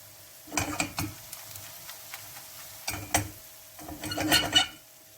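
Walnuts frying in a pan for ot kavurma, with intermittent clusters of sizzling, clinking and scraping in three short bouts, fairly quiet and close over a low steady hum.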